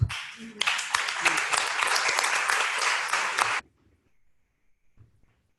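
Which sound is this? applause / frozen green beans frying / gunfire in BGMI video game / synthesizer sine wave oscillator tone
applause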